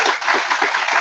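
An audience at a stage performance claps in a short, moderately loud burst of scattered hand claps.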